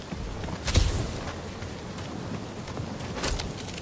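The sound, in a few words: rain in the video game Guardians of the Galaxy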